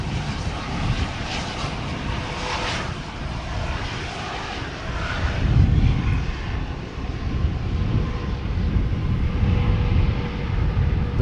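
A Bombardier business jet operated by VistaJet roars at Schiphol Airport with a loud, broad, continuous engine rumble that swells slightly midway and holds steady without talk.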